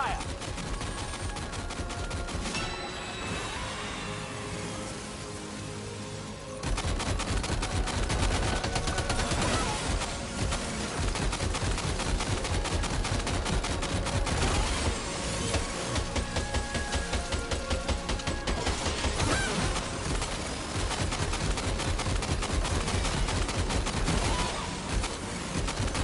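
Rapid automatic weapons fire rattles continuously in Death Stranding 2, loud, dense bursts running without pause over a background of game sound, briefly quieter at first before the full fusillade kicks in.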